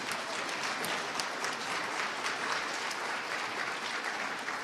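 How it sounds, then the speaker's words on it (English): Crowd at an Oklahoma gubernatorial debate applauding, a dense, even wash of many hands clapping that stays steady and fairly loud for several seconds without a break or any voices. "Give them a round of applause."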